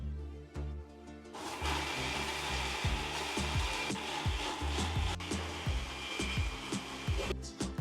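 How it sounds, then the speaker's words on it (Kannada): An electric wet grinder grinds soaked lentils and rice with a little water into old-style Thanjavur adai dosa batter, a steady whirring hum with rhythmic repeated scraping thuds as the stone turns. "ಸ್ವಲ್ಪ ನೀರ್ ಹಾಕೊಂಡು ರುಬ್ಬಿ"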